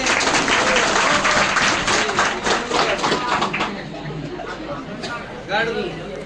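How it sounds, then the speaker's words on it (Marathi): A crowd at a lively lucky-draw prize event claps loudly for a boy called up to the front, dense applause that gradually thins out while voices talk over it. "हे रोशनसाठी टाळ्या वाजवा रे"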